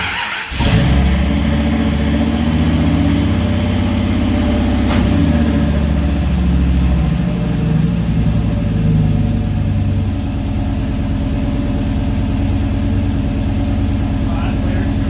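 The V10 engine of a Kaiser Jeep M715 overland truck catches on its first startup after re-assembly and settles into a loud, steady, close rumbling idle, with voices talking now and then over it.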